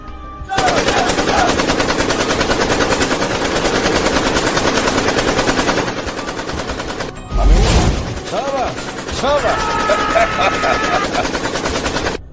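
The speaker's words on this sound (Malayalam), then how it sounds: "ഇതൊരു ഓപ്പൺ ഫയറിംഗിന്റെ തുടക്കം മാത്ര" Gunfire sound effect in an Indian Army radio drama, a loud continuous machine gun rattle running throughout, with a heavy thump partway through and a voice speaking over the shooting.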